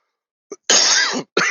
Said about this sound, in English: I just had a cough.